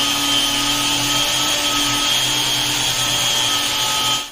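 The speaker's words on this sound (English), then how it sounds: "Here's what the sander sounds like on medium speed." A drywall sander runs at medium speed with a steady, loud motor whine and a constant grinding hiss that holds level throughout, close by, with no voices.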